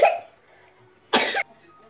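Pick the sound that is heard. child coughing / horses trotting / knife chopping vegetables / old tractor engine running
child coughing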